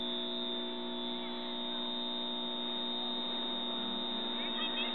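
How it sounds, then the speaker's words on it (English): Solar central inverters give off a steady, unbroken electrical hum with a sustained high-pitched whine layered over it, loud and constant from start to finish with no talking. "you'll hear this incredibly bothersome and annoying high-pitched sound coming from these central inverters"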